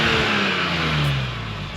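A 2021 BMW M4 Competition's stock-exhaust engine revs up and holds a steady mid-pitched growl, then eases slightly, heard up close with no voices.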